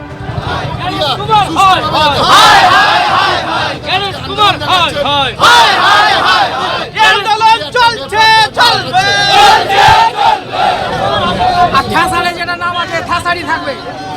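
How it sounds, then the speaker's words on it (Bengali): Protesters blocking National Highway 12 at Mangalbari in Malda shout together in loud, ragged bursts of crowd voices, with excited babble rising and falling between the chants. "এই মুহূর্তে মঙ্গলবাড়িতে বিক্ষোভ দেখানো হয়, 12 নম্বর জাতীয় সড়ক অবরোধ করে বিক্ষোভ দেখানো হয়"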